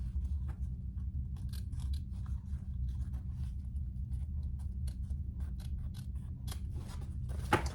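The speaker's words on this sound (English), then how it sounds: "I'm gonna just barely clip my outside fabric, not my zipper teeth" Sharp scissors make repeated close, crisp snips as they clip into the outer fabric of a sewn waist pack near its zipper tape, with irregular short cuts throughout and a louder snip at the end.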